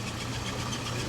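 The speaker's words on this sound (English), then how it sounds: "A typical 240 engine" A Volvo 240 with its B23 2.3-litre engine running steadily, a continuous low mechanical drone with a slight knocking rumble, close and fairly loud, with no voices.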